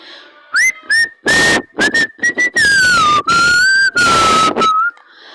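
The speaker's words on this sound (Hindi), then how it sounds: "तब वहाँ से एक चीज़ की आवाज़ आती है, एक सीटी की आवाज़ आती है।" Loud, close whistling in a series of short and long blasts, the pitch sliding and wavering, with brief breathy noise between notes.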